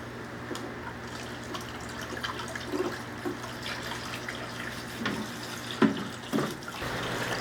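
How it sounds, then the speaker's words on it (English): Water from a tap runs steadily through a car intercooler to flush out oil residue, with a constant splashing rush and a few louder sloshes and gurgles near the end. No one speaks. "The intercooler's got a lot of oil residue in it too, so I'm gonna try to rinse it through."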